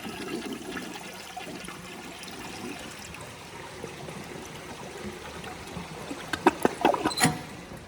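A 2001 Gerber Aqua-Saver toilet, set to about 1.6 gallons, flushes with a steady rush of draining water, ending in a louder burst of gurgles and splashes as the bowl empties.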